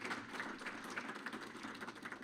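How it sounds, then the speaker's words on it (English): An audience at a credit union's annual members meeting claps for scholarship recipients, a faint but continuous patter of many hands heard from a distance. "How about one more round of applause for all the recipients of today's scholarship?"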